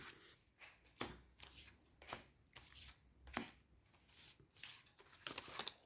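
Oracle cards being handled, shuffled and laid down on a table, soft papery flicks and slaps in an uneven rhythm, close and quiet with no talking.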